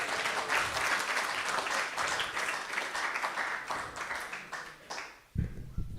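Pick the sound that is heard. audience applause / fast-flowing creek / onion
audience applause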